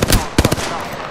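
Weapon fire in the video game Apex Legends: two loud, close bursts of rapid automatic shots, each a quick cluster of sharp cracks, with a ringing tail between them.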